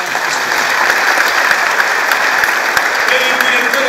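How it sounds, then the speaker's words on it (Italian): A crowd of schoolchildren and guests at a political event in Palermo applauds loudly, dense sustained clapping filling the hall, with some voices mixed faintly into the noise. "vi chiederei un grande applauso per i vostri compagni che sono qui,"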